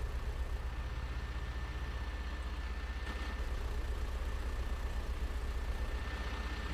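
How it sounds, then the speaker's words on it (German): An old truck in the OMSI 2 bus simulator rumbles past in Berlin-Spandau, a steady low engine drone with a faint high whine, fairly constant and moderately loud throughout with no talking. "Richtig alter LKW."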